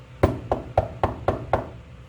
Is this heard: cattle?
no